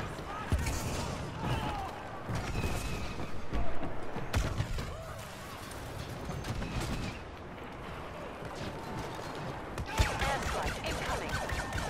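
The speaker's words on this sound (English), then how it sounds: "Get the blaster cannon set up." Blaster cannon fire and explosions in the Star Wars Battlefront video game: dense bursts of shots and booming impacts keep going throughout, mixed with in-game voices.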